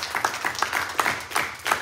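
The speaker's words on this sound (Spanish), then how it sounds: "¿Por qué no le damos una ovación de palmas al Rey de Reyes y Señor de Señores?" A church congregation claps in an ovation during a Spanish-language worship service: a mid-distance patter of hands in uneven bursts that swell and fade over a couple of seconds, with no one speaking.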